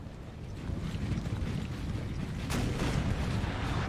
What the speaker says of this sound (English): See this artillery here just taking chunks out of the line of cavalry.